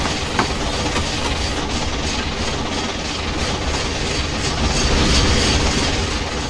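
Looped steam locomotive chuffing from the Trainz 2019 game, a dense continuous rumble with rail clatter and slightly swelling volume, no voices.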